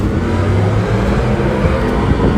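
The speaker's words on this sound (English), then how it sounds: "Sound like the last 2 trucks that went down through there." Steady, loud engine roar from trucks at a drag strip, a continuous deep rumble with revving texture and no pauses or speech.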